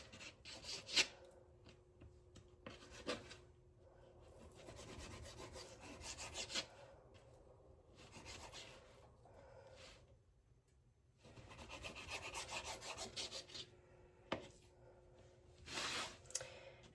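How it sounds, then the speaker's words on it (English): A knife slicing through raw pork chops and trimming off the fat, giving soft, close rasping and rubbing strokes in uneven bursts, with quiet pauses between cuts. "I'm gonna take my pork chops, start cutting them up"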